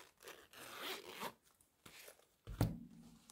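A wallet being zipped shut after four budget envelopes are stored inside: quiet, close zipper rasps in a few short pulls, then a soft final snap or tap, with no talk.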